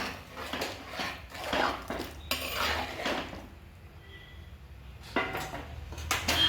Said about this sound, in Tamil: உப்பு கொஞ்சம் சுற்றி விட்டு கரைய விடணும்.